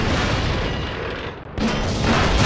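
Artillery fire in a World of Tanks Clan Wars battle, a sustained deep booming roar with a brief dip midway before another heavy rumbling blast swells back up.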